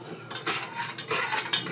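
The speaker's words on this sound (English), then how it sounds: "Let's get this out of our bowl." A scraper scrapes pizza dough out of a bowl in a few short, close scrapes and clinks, brief and fairly loud, with no talking.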